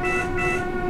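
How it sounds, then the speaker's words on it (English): Train horn of a Class 484 unit in Train Sim World 2, a loud sustained multi-tone blast held for the full second with no talk. "when you do the horn, the sound sort of stays where it is"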